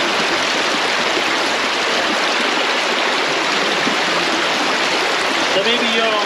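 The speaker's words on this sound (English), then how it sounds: "you can see how this water is moving like really fast out here" Fast-moving water rushing steadily through a culvert in a wildlife refuge, a loud continuous broadband roar with no pauses, close to the listener.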